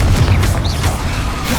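Blast from the Confringo spell in Hogwarts Legacy, a loud booming explosion with a rumbling tail, short and close.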